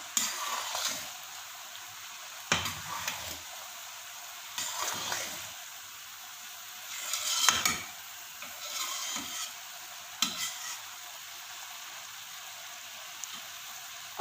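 Chopped boiled eggs being stirred into sweet zarda rice in a pot, with separate scraping spoon strokes every couple of seconds over a quiet background.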